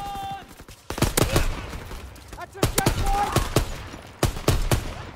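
Semi-automatic rifle fire in a WWII first-person shooter team deathmatch: sharp, loud, close shots in quick clusters of two or three, separated by short pauses, with other battle noise underneath.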